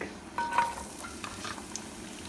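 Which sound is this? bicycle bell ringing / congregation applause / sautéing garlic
sautéing garlic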